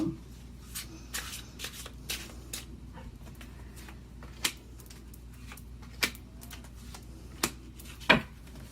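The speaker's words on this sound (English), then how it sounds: "concentrate on them as I'm shuffling" Tarot cards being shuffled up close, a quiet series of irregular riffling snaps and soft slaps against a faint background hum.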